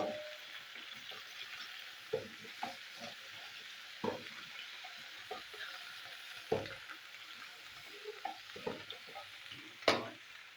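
Fried potatoes being stirred with brinjal and ridge gourd in a pan: a soft frying hiss runs throughout, broken by irregular scraping clicks and knocks of the spatula, with one sharper clatter near the end.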